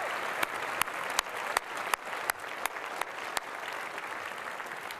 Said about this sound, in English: May I have a round of applause for Samantha and her outstanding leadership as president of our Associated